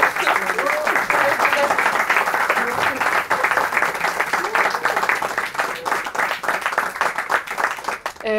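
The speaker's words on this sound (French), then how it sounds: "on vous applaudit encore une fois" An audience at a university deliberation event applauds steadily, dense clapping that carries on without a break for several seconds.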